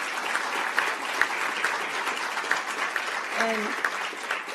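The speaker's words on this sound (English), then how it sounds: "So let's give a round of applause to the organization." Steady applause from a crowd, a dense continuous patter of clapping at moderate volume with faint voices mixed in.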